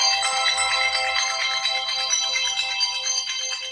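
A phone ringtone plays loud and close, a continuous bright tonal melody with a steady pulsing rhythm and no talk.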